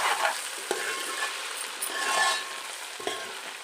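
Okra sizzles and fries in a pan, with a spoon stirring and scraping now and then over a continuous crackle that swells and eases, heard close up without voices.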